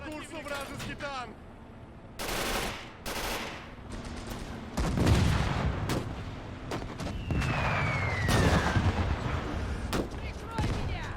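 Artillery barrages thunder in Gates of Hell during a 1941 German invasion of the Soviet Union, heavy booms and bursts of gunfire and machine-gun rattle in irregular clusters, with a voice talking over the battle.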